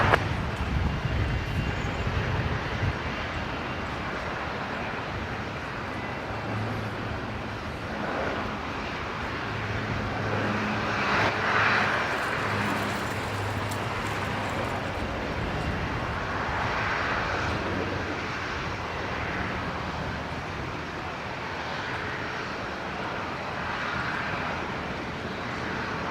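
At Brisbane Airport, a Qantas Link airplane's engine roar carries from a distance as a faint, steady drone that swells slightly midway and stays low and continuous.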